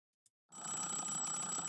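Telephone ringing inside a political simulator video game, a bright sustained electronic ring that starts abruptly after a short click and carries on steadily, fairly loud and alone.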